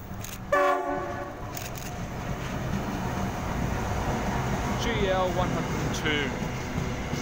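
CFCLA freight train passing at Dulwich Hill in Sydney, with a loud horn blast early on, then a rolling roar of wagons and a rising, wavering second horn call; a voice talks briefly.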